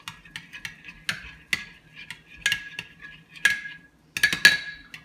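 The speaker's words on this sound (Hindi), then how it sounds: "ये हम योगर्ट के अंदर डाल के इसको कर लेंगे मिक्स" A spoon stirring roasted cumin and salt into yogurt in a bowl, heard as a run of sharp clinks and scrapes in irregular bursts, close and fairly quiet, with no voices.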